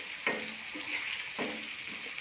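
A spoon scrapes and stirs a potato fry in an iron wok-style pan in slow, repeated strokes over a steady soft sizzle of oil, close by with no talking.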